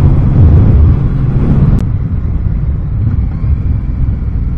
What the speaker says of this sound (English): it's a car engine in a motorcycle, and it sounds like it